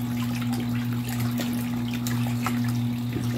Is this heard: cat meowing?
no